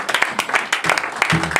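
Congregation applauding in a church, bursts of clapping and cheering mixed with voices, close and fairly loud over 1.6 seconds.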